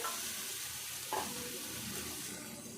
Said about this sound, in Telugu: సుక్కకూరలో నీరంతా పోయేదాకా మంచిగా దగ్గరికి ఫ్రై చేసుకోవాలి.